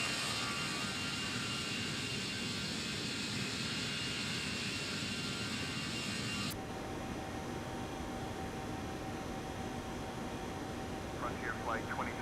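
Toliss A21N airliner taking off in the X-Plane 12 flight simulator, a loud steady engine roar with broadband hiss that abruptly drops in pitch and level midway, continuing as a lower engine drone.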